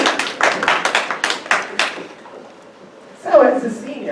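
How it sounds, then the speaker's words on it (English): A town board meeting audience claps in a burst of sharp hand claps for about two seconds, and the applause then fades. A voice starts speaking near the end. "Now you can clap."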